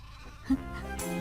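A single goat bleat rises partway through, then a longer, strained goat cry with a rising harmonic whine at the end, fairly close with no talking, in the Himalayas.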